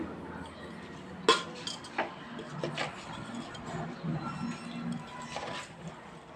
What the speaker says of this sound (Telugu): వేసిన తర్వాత బాగా కిందికి పైకి కలపాలి.